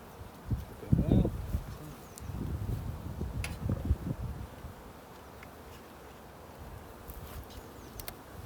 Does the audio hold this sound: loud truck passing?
no